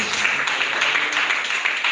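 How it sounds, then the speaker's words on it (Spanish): Congregation applause fills a church teaching service, a dense, even roar of many hands clapping at close range for about two seconds with no pause. "Dale un aplauso al Señor si lo crees"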